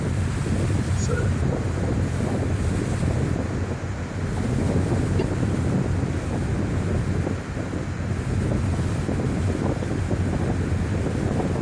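A passenger boat cruises on the open sea toward Koh Samui, with constant rushing wind buffeting the microphone over the wash of waves and the hull's steady hum.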